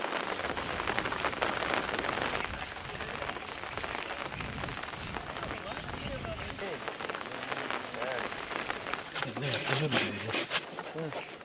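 Light rain patters steadily outdoors in a village, a soft, dense hiss of drops on surfaces with faint insect buzzing and occasional voices underneath.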